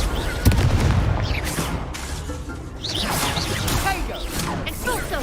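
A Confringo fire spell blasts amid a dense Hogwarts Legacy duel, a loud burst with crackling and booming impacts woven into continuous battle noise, music and other spell effects throughout.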